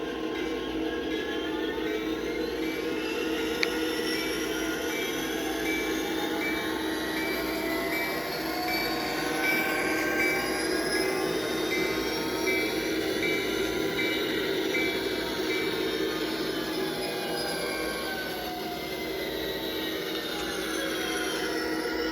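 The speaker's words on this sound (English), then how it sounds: "They have multiple sound cards depending on the type of diesel or steam that you're running" A continuous diesel locomotive rumble from a Kato Sound Box for model trains, with steady engine drone and faint whining tones, running unbroken for the full stretch.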